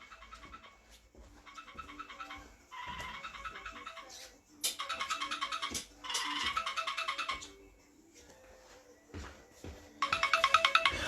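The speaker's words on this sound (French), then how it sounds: "j'ai le téléphone qui sonne" Telephone ringing in bursts of rapid electronic trilling, several separate rings spaced a second or two apart against a quiet room background.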